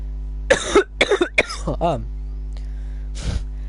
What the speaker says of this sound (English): As soon as I finished coughing